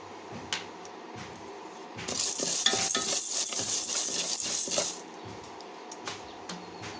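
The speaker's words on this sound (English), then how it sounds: "We have to dry roast all the ingredients." Chana dal and spices dry roast in a pan for an amla masala powder, stirred with a utensil for a few seconds, giving a close dry rattling scrape and faint sizzle over a quieter hum.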